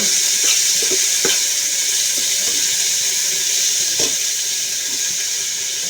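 Water spinach greens tipped into hot oil produce a steady, bright hiss of sizzling with scattered pops and crackles, close and continuous without any voices.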